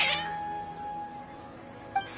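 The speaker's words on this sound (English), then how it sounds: "Strange. Your cats seem pretty worked up." Cats in Genshin Impact let out a drawn-out, agitated meow that wavers over a sustained tone. A sharper cry breaks in near the end, close and clear.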